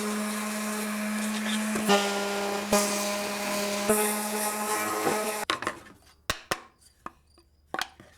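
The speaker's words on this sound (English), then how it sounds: "Let's go ahead and sand these up." An electric sander works over wooden baseboards for a polymer clay sculpture base, giving a steady, close buzzing drone for about five seconds before it cuts off, followed by a few scattered knocks and taps.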